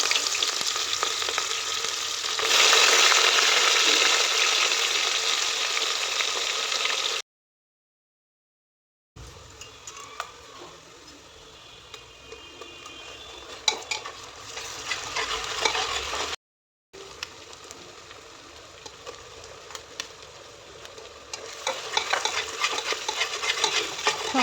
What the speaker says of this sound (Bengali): সমস্ত মশলা ভালো করে কষিয়ে নেব তেল ছাড়া পর্যন্ত।